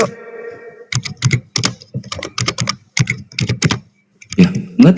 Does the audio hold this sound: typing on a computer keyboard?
yes